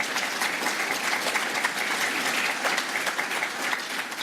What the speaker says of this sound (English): So a round of applause, actually.